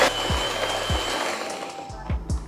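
An electric mixer beats gluten-free oat and chocolate brownie batter, a continuous whirring motor close by, punctuated by regular low knocks as the beaters hit the bowl.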